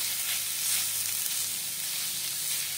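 Mustard leaf bhaji with coarsely crushed peanuts cooks in a pan with a continuous, even sizzle and faint stirring underneath, close and unbroken, with no voices.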